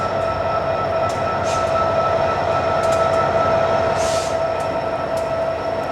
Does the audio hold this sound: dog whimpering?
no